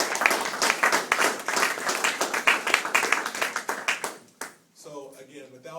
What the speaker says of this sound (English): So let's just give them a quick round of applause.